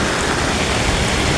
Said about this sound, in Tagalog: hindi talaga ako makaalis kasi malakas pa yung ulan